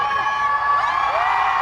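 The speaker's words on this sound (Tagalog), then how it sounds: "lahat sumisigaw eh" A concert crowd at the Coachella festival performance screams and cheers continuously, a dense, loud wall of high-pitched shrieks with no break.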